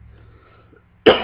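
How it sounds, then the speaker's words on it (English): One sharp, loud cough from a person near the end, close up, after a moment of near silence. "that's why I'm coughing, because I need a glass of water"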